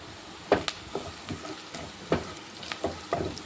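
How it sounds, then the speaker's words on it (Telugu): Onions frying in oil in a pan, with a pinch of turmeric going in, a soft steady sizzle broken by several sharp scraping stirs of a spoon against the pan. "ఉల్లిపాయలు ఫ్రై అవుతున్నాయి కదా"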